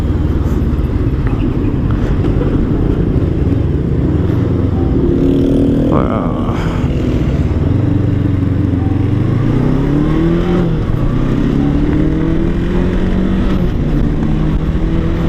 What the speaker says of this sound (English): in terms of city driving, the engine and the gearbox is really smooth